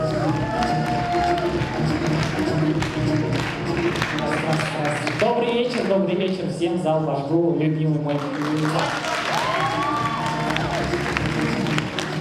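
Applause and scattered cheers rise from the crowd in a university hall during a KVN comedy contest, a busy wash that sits under someone speaking loudly throughout.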